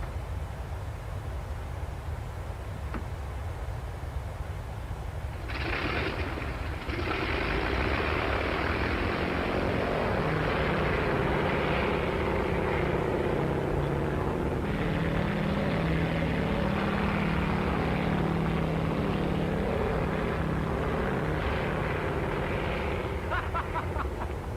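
An airliner, a Boeing 737-700, rolls for takeoff with a steady low engine rumble that swells into a loud, sustained roar with rising whine, heard up close from inside.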